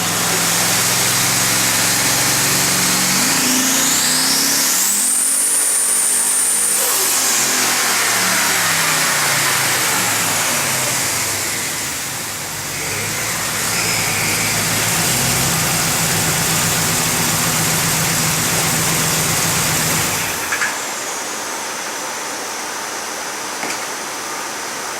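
A twin-turbo Chevrolet Silverado making about 1200 hp roars hard on a full-throttle pull, its pitch sweeping upward through the run before the engine abruptly lets off near the end, loud and close.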